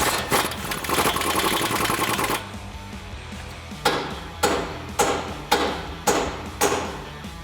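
Hammer striking the collar around a Toyota Tacoma's ball joint to break it free from the upper control arm: six loud, evenly spaced metallic blows near the mic, following a stretch of steady workshop noise.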